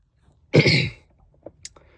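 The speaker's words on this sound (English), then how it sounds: "Sorry for the coughing." One harsh, close cough bursts out loudly, followed by a couple of small throat sounds and a faint breath.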